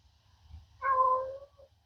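An angry cat lets out a single drawn-out meow, fairly close and clear over a low background hum, with no one speaking.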